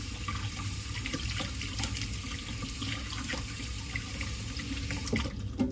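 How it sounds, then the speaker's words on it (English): Water runs steadily from a kitchen tap while hands are washed beneath it, sticky with corn arepa dough, a continuous close splashing rush with small clatters near the end. "Let me wash my hands here real quick."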